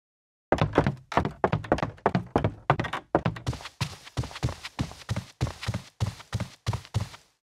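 Video game footsteps from a Unity and Wwise setup walk steadily across a wooden floor, crisp hollow knocks that shift partway through to softer, duller steps on a rug, an even rhythmic series with no talk.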